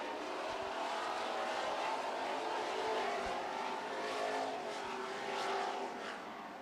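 Super stock race cars run door to door down a dirt-track front straightaway, a steady, loud roar of engines droning continuously with no pause throughout.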